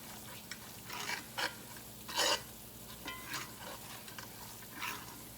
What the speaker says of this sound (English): now we're just going to cook that flour down real good